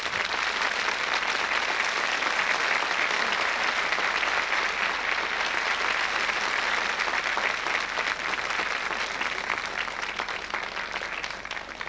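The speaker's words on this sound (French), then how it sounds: "On les applaudit très fort." Audience at a cabaret show applauding, a dense, sustained wash of clapping that holds steady and close throughout and tapers only slightly near the end.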